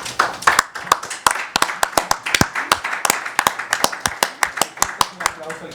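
Rhythmic clapping at a book presentation on Antonio de Nebrija at a book fair, sharp, evenly spaced claps in a steady beat that carries on throughout, with voices underneath.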